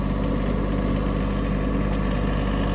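A tractor engine idles at night during snow plowing, a steady low rumble with a constant throb, close and unchanging, with no talking.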